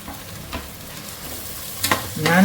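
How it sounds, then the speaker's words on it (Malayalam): Onions sizzle in a pan for beef biryani with a constant frying hiss, while a spoon scrapes and stirs in a few distinct strokes near the end. No one speaks. "ഒരു ലൈറ്റ് ബ്രൗൺ കളർ ആവുന്ന വരെ നമുക്ക് ഇടയ്ക്ക് ഒന്ന് ഇങ്ങനെ ഇളക്കി കൊടുത്ത് അത് മസാല റെഡിയാക്കി എടുക്കാം."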